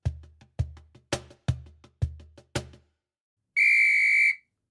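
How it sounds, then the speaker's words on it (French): Six sharp, evenly spaced knocking thumps, then a single loud, shrill soccer referee's whistle blast lasting about a second. "L'arbitre siffle pour annoncer que c'est l'heure."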